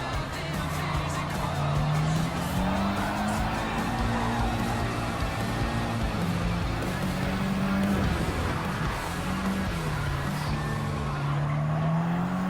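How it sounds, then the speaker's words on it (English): A Honda Civic Type R Limited Edition FK8 in Gran Turismo 7, cornering and braking through a time trial, its engine droning loud and continuous with pitch rising and falling as it shifts and slows for turns. "take turn 10 through 11 and pull the brake onto turn 12 again"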